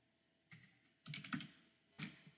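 Several short bursts of computer keyboard keystrokes, tapped in quick clusters at close range during month entry in a spreadsheet, with pauses between groups and no talking.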